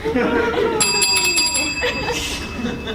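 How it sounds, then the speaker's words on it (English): Handbells ring in a quick run of bright, sustained tones, overlapping with people talking and laughing in a noisy room. "I play the handbells."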